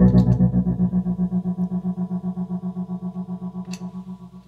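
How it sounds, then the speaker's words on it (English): An electric bass runs through effects pedals with delay and distortion, sustaining one heavily processed note that pulses in a fast, even tremolo-like rhythm and slowly fades. "So it's got some delay stuff to it too."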